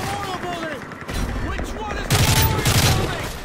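Sustained gunfire rattles in Call of Duty: Modern Warfare 3, with a heavier burst of blasts partway through, loud and dense against busy game noise.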